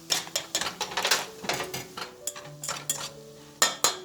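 Tuna and ramen mixture being stirred in a pan, close scraping and clinking of a utensil against the metal in quick irregular strokes, with faint sizzling underneath.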